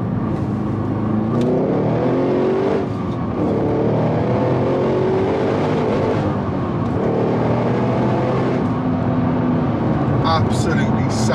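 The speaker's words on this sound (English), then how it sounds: "We're going to do a bit of a pull now and see what it accelerates like." A Holden HSV GTS engine revs up and pulls hard through rising gear changes, loud and close, with cabin noise.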